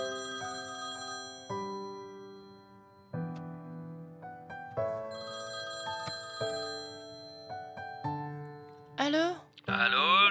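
A ringing telephone in a French-dubbed cartoon about a magic dog, loud and near, sounding as a tonal melodic ringtone in repeated phrases for about eight seconds before a voice speaks.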